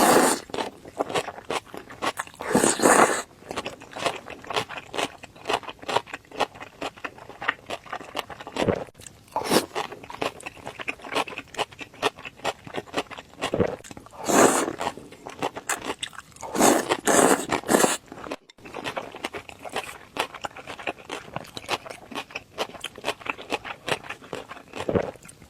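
Chewy dough and meat buns being eaten close to the mic, with repeated soft crunching bites and wet chewing in bursts across the whole stretch, no talking.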